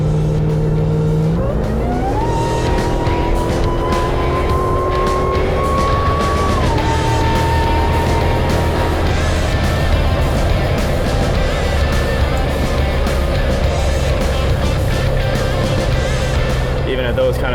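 An 840-horsepower 2023 AMW 840 Demon Gladiator engine pulls hard. A loud, continuous drone climbs in pitch, and the tone steps up through gear changes while the sustained roar runs on.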